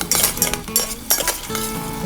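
A spoon clinks and scrapes in a pot while chole masala spices are stirred, quick metallic taps and rubbing strokes in an irregular rhythm, close and fairly quiet.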